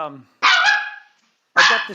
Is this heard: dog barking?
yes